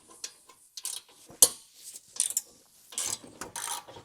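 A hand ratchet works loose a shock mount bolt on a rare BMW M car, its pawl clicking in quick uneven bursts of close metallic ticks with short pauses between strokes, no voices.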